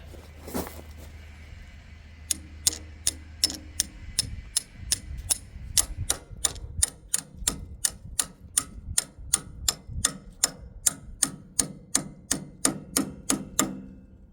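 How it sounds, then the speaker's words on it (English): A hammer taps a tool on a clogged grease fitting in a fast, even rhythm, dozens of sharp light metal strikes in a row after a brief low rumble at the start. "then we'll give it some hits with a hammer on this end"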